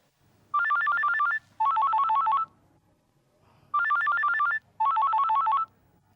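A telephone bell rings in two pairs of bursts, each bright trilling ring lasting just under a second, with a silent gap between the pairs, loud and close with no talking over it.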